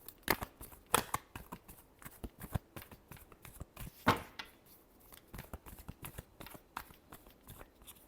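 Tarot cards are shuffled by hand in a quiet room. Soft, irregular flicks, taps and riffles come close to the mic, with a few sharper snaps among the faint rustling.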